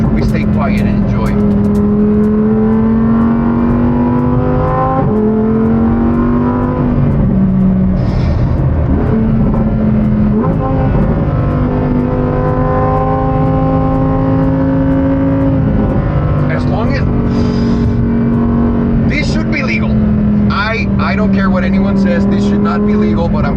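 A Lamborghini STO sports car drives and accelerates, its loud engine note rising and falling through gear changes under steady road and wind noise, with talk over it at times.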